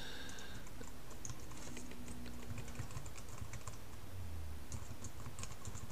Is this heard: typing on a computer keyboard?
yes